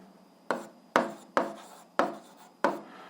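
A pen writing on paper for a school algebra exercise, five short scratchy strokes about half a second apart, each starting sharply and trailing off, with no voices.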